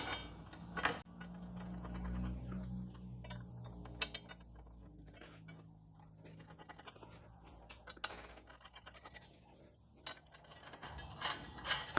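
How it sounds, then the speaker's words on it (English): Bolts are threaded by hand into a stainless steel luggage rack on a Can-Am Ryker motorcycle, making faint close metallic scraping, ratcheting clicks and light taps with a low hum underneath and no speech. "you're going to lay your luggage rack on top and start threading in the bolts"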